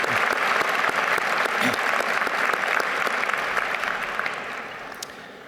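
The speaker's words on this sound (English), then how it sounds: "Applause for all of those faculty" Sustained applause from a large commencement audience honoring university faculty at Monmouth University's 2015 graduation, a dense even clapping that slowly tapers off toward the end.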